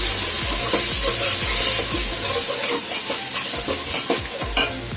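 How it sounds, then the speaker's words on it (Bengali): Onion and garlic paste frying in hot oil for a fish curry with coconut milk, a loud dense sizzle and hiss with rhythmic spoon scrapes and thumps against the pan, close and continuous. "কিছুক্ষণ ভাজবো কাঁচা গন্ধটা যাওয়া পর্যন্ত"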